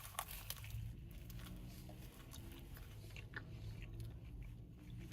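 Biting into an apple turnover, a flaky pastry, gives a few close, soft crunchy bites followed by steady chewing, heard alone with no talk.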